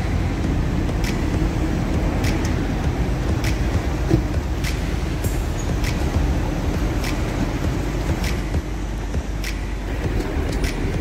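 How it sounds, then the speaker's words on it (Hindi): Steady road traffic rumble in Dubai's Deira district, a loud continuous roar of passing vehicles with occasional sharp clicks and knocks over it, no talking. "यहाँ पे ट्रैफिक का फ्लो जो है वो बड़ा स्मूथ है"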